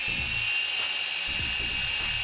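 Small TYRC LS11 Pro toy quadcopter drone with its motors spinning up, a steady high-pitched electric whine with buzzing harmonics that rises and wavers as the throttle changes, close to the microphone with no talking.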